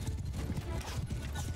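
Horses gallop in a rapid, continuous clip-clop during a battle in Mount & Blade II: Bannerlord, with horse archers riding in close and loud.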